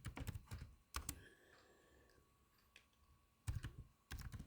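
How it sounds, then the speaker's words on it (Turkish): Fingers type on a computer keyboard in quick, close clusters of clicks, with a quiet pause in the middle before more bursts of keystrokes. "Bilgisayara yazıyorum."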